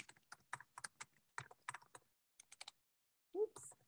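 Name being typed on a computer keyboard while building a student page in Book Creator, heard as a string of quick, light key clicks in short bursts, with a brief louder knock near the end.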